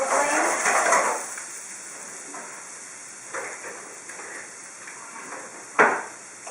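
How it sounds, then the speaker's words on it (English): Onions sauté in a pan over a medium-low flame, producing a soft, fairly quiet sizzle with light stirring scrapes and a brief utensil clink near the end, and no voices. "you want to saute them until soft, not brown and crispy, just soft"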